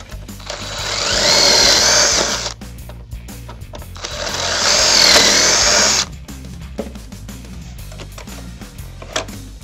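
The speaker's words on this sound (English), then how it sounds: "let's go ahead and drill this demonstration piece" A power drill whirs loudly in two bursts of about two seconds each, separated by a brief pause, drilling pocket holes in a demonstration piece with a Trade Armor auto-jig, followed by quieter workshop clatter.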